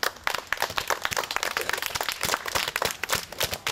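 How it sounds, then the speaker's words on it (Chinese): A football coach claps his hands for the children in a rapid, steady run of sharp claps, loud and close, continuing for several seconds with no talking. "教练给你们拍拍手啊！"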